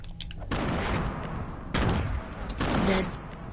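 Grenade explosions in Fortnite, three loud booming blasts spaced about a second apart, each a broad burst of noise that decays quickly, with a faint electronic tone near the end.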